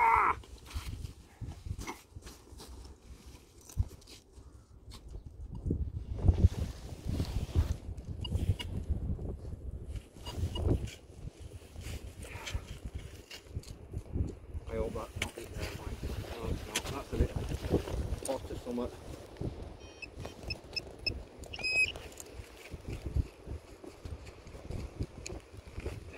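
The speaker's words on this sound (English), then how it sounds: "That wind's nippy." Cold wind blows outdoors in snow and ice during metal detecting, a steady low rumbling buffet across the microphone with gusty swells, while people talk nearby.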